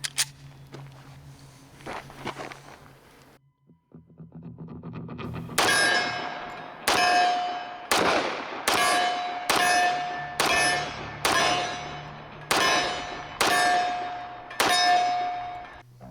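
Kimber Rapide 1911 pistol fired two-handed at steel targets: about ten sharp shots with ringing metallic clangs, spaced roughly a second apart after a quieter start, loud and close.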